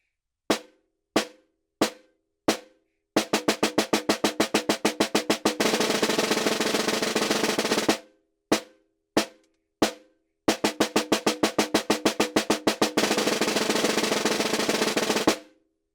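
Snare drum played with sticks: four single strokes, then quickening strokes that merge into a smooth buzzing multiple-bounce roll, the whole pattern repeated twice, close and loud with no voices.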